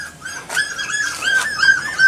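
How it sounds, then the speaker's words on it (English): Distressed puppies whimper and yip close by in high, wavering whines, several overlapping cries rising and falling without pause. "There's a bunch of distressed puppies over there"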